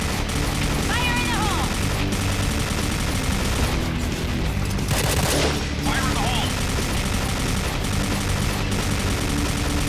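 Rapid automatic fire from an HK416 rifle in the shooter game Point Blank, dense bursts running nearly throughout alongside game sounds and occasional voice, loud and close.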